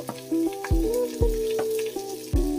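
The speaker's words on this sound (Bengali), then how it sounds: "পেঁয়াজগুলো আমি ডুমু ডুমু করে কেটে নিয়েছি একটু ভেজে নিতে হবে" Diced onions fry in a pan with a close, steady sizzle, broken by several sharp clunks and scrapes of stirring.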